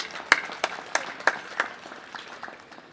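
Audience at a human trafficking event at the Oshikango border post claps in a round of applause, a moderately distant patter of hands with a few sharper individual claps, fading toward the end.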